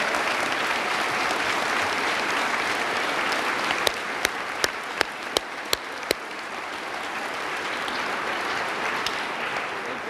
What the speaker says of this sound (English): Another round of applause for them all.